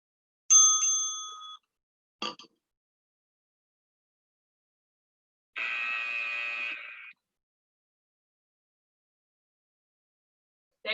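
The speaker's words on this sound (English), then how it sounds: "Warning buzzer coming" Workout timer warning buzzer at a boot camp class: a loud, steady tonal buzz lasting about a second, a brief burst, then a longer raspy buzz and another starting at the end, with silence between.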